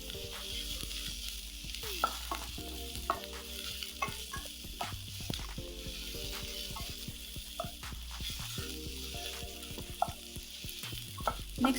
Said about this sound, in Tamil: இப்போ இது எல்லாத்தையும் லேசாக கிளறி விட்டுடலாம்.